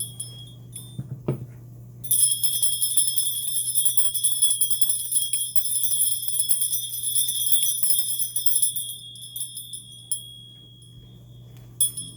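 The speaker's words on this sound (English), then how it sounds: "We're going to go ahead and hit it with the bells." A bright bell rings out and sustains with a long shimmering tone, slowly fading over several seconds against a low steady hum.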